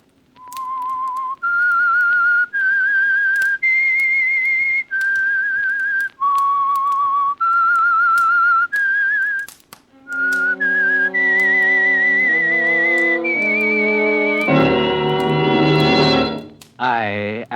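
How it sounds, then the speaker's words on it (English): A lone whistler carries the theme tune of The Whistler, an old-time radio mystery, in clear sustained notes rising and falling in a slow, eerie phrase, then joined by a swelling orchestral chord at the end. "That whistle is your signal for the Signal Oil Program"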